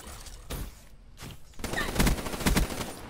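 Bursts of gunfire from Call of Duty Black Ops 3, fired in rapid volleys that are loudest in the second half, with a brief silent gap early on.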